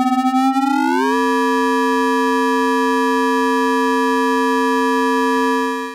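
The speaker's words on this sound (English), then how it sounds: "I've got two sine waves going, and we've got, you know, not a sine wave sound" A steady Eurorack synthesizer tone from two amplitude-modulated sine waves through a VCA sweeps upward in pitch over the first second, then holds a bright, buzzy pitch rich in harmonics, loud and alone.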